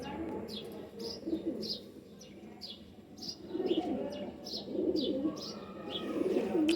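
Pigeons coo softly in a repeating rhythm, with several low burbling calls and faint higher chirps in a quiet setting.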